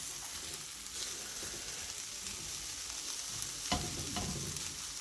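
Vegetables sautéing in a pan for Bahamian peas and rice, a soft continuous sizzle with occasional stirring scrapes, fairly quiet and close, no voices.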